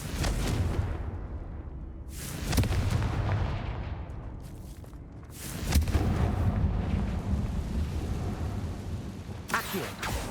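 Bombarda and Confringo spell blasts in Hogwarts Legacy, a series of heavy booming explosions with rumbling tails, three or four big bursts roughly every few seconds over a continuous low roar.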